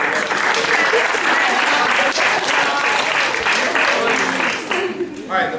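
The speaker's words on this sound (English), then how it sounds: "round of applause for" Sustained applause fills a high school soccer banquet room, dense steady clapping from a crowd of parents and players that holds loud throughout before thinning near the end.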